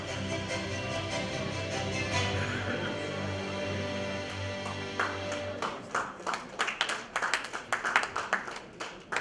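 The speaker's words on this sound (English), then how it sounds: "A big round of applause for Ask Investment." Applause at a CSR awards ceremony, scattered clapping that grows into sharper, louder individual claps from a nearby audience, heard over a sustained background tone from the hall's music.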